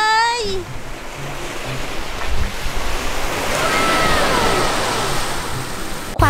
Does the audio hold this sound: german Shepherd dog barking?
no